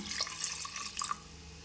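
Water mixed with ginger garlic paste is poured into mutton curry in a pot, a brief soft splashing trickle with a few small drips, fairly faint and close, with no talk.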